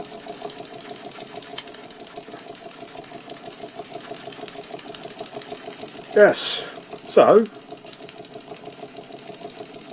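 A small Bassett-Lowke model steam engine from around 1900 chuffs in a steady, even rhythm throughout. A person speaks briefly partway through.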